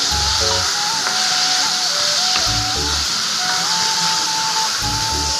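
Chayote, tomato and tamarind sauté together in a pan for chutney, giving a loud, continuous hiss and sizzle with occasional faint clatter, heard close and without speech.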